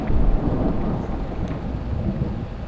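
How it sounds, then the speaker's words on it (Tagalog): Rain and thunder in the Escape the Backrooms video game: steady heavy rain with a low rumbling thunder roll throughout, loud and continuous. "Ulan pa."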